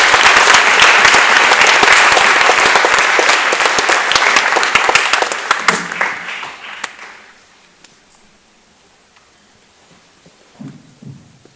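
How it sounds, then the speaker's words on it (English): An audience at a high school academic and scholarship awards ceremony claps loudly and steadily for about six seconds, then the applause thins and fades into near silence, with a few faint stray sounds afterward. "Please give them a round of applause."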